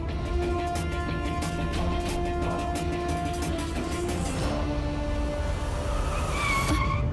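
A car brakes to a stop with a loud, sustained tonal squeal over a continuous rumble, the pitch sliding downward midway before a final sharp screech as it halts.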